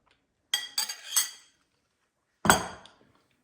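Spoon clinks and scrapes against a pot while osso buco is mixed: a quick cluster of three or four metallic knocks, a pause, then one more, close and fairly loud with no talk.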